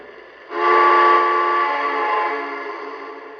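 After a brief quiet moment, the whistle of a Lionel TMCC K4 model locomotive sounds one long, steady blast, strong at first and easing off gradually, with no talking.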